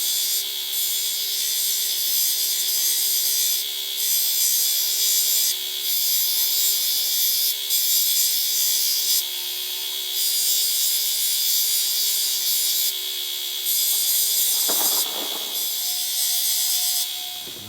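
A grinder steadily takes down a quarter-inch metal door latch for a Scout SSish II, a loud, continuous high-pitched abrasive whine lasting the whole stretch with slight pulsing changes in pressure.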